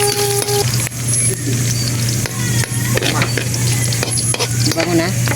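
Garlic and onion sautéing in a pan for ginisang upo: a loud continuous sizzle close up, with spatula scrapes and clinks breaking through it at irregular moments.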